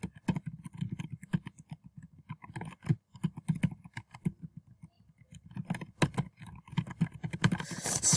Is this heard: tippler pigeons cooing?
no